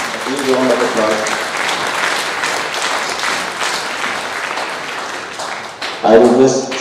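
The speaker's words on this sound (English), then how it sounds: "Round of applause." An audience at a university ceremony breaks into loud, sustained applause with dense clapping that lasts several seconds. Someone speaks over it at the start and again near the end.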